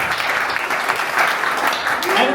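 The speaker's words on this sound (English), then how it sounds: "please give her applause" Audience applause at a tech meetup, a dense, steady patter of many hands filling the room for the full stretch, with some faint voices mixed beneath it.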